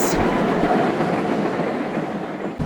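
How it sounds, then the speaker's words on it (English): Close, continuous rumbling and clattering of a short goods train being shunted, a dense mechanical roar with no talking. "He was shunting a short goods train for Winston."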